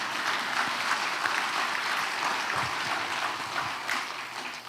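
A church congregation claps together in a steady, dense wash of applause that carries on without a break, filling the hall at an even level before easing off slightly at the end.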